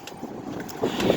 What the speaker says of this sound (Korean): 가로수가 엄청나게 바람에 휘날리고 있습니다